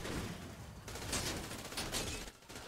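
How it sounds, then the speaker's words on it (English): Rapid bursts of video game gunfire ring out during a car chase as an orange vehicle shoots from behind in a prison convoy attack, faint and crackling with no talk over it. "I'm getting shot in the back now? Orange killer vehicle shooting me."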